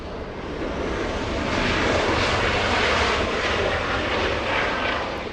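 A jet airliner arriving at Los Angeles International Airport passes with a broad, steady engine roar that swells in the middle and eases slightly at the end, fairly loud and free of voices.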